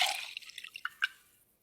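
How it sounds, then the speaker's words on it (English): Vinegar is poured into a beaker holding an egg, a short splashy pour that breaks into a few quick drips and trickles and then fades to quiet. "All I'm going to do is put it into a beaker and add some vinegar."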